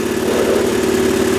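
A Cub Cadet 1200 garden tractor engine labors uphill in third gear, a steady loud mid-pitched drone with an even throbbing pulse, close and continuous with no talk.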